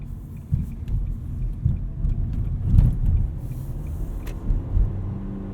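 A 2020 Nissan Versa SV driving, heard from inside as a steady low road and engine rumble with a few soft bumps and knocks along the way.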